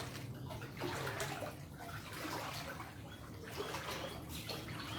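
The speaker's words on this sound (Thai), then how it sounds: "ห้องครัวทางนี้น้ำไหลเขาแล้วครับพี่น้อง" Floodwater pours into a house kitchen, a steady rushing and trickling wash of water with surging swells, fairly close and continuous, no talk over it.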